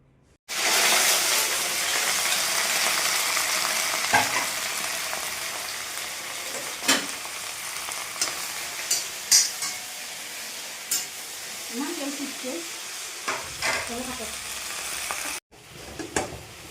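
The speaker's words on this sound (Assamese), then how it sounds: "এইফালে ভেন্দি ফ্ৰাই হ'বলৈ দিছোঁ" Okra sizzles in a kadai over a gas flame turned low, a steady frying hiss broken by scattered clinks and scrapes of stirring, with no talk.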